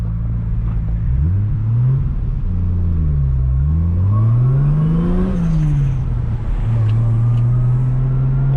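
Turbocharged Lexus IS300 pulling hard in second gear: a loud, close engine note climbs and dips with throttle, a rising rev sweep followed by a steady held drone, with faint turbo whine above and no talk.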